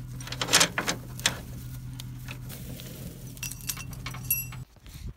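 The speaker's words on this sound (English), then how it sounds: "So I got the chain hooked up to the K-member" Metal tow chain clinking and rattling in sharp, scattered jangles as it is hooked under a 1968 Dodge Coronet's K-member, close by over a low steady hum.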